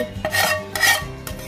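A spoon scrapes around a pot in a few quick, rasping strokes, stirring vermicelli through milk for sheer kurma sweet, with light metallic clinks between passes.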